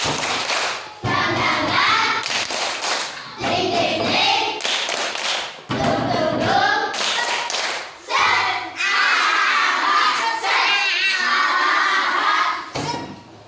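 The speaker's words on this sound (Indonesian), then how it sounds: "Tepuk semangat." Children in a classroom clap a rhythmic 'tepuk semangat' pattern together with a teacher, sharp hand-clap bursts in repeated short phrases mixed with group chanting voices, fairly loud and close throughout.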